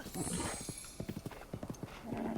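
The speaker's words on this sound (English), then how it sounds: "This is definitely the best horse we've found so far." Horse hooves clip-clopping in The Legend of Zelda: Breath of the Wild, a steady series of close, crisp hoofbeats as a white stallion trots, with a brief whinny-like texture and game ambience around them.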